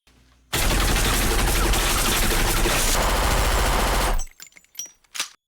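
Gunfire from a Breaking Bad episode, a sudden loud sustained burst of rapid automatic shots lasting several seconds, then cutting off to a few scattered sharp bangs and clatter.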